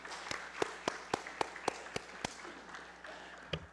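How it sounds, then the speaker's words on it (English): Scattered applause in a legislative session hall, a handful of separate, fairly sharp claps spaced out over a few seconds, faint and thinning toward the end. "Let's give him a round of applause."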